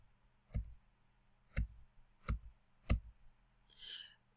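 A computer mouse clicks four times at irregular intervals while advancing presentation slides, each click crisp and close in a quiet room, followed by a soft breathy sound.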